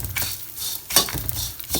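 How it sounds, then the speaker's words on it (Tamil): Curry leaves sautéing in a pan for karuveppilai thuvaiyal, with a spatula stirring and scraping them in a few quick close strokes over a soft sizzle, and no voices. "கருவேப்பிலை நல்லா வதங்கிட்டு பாருங்க"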